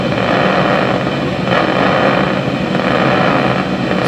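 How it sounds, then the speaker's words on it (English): A single brain cell's electrical activity is played through a loudspeaker as a dense, continuous crackling static, steady and fairly loud, with no speech. "this is how it sounds if you connect the electrical activity of this cell"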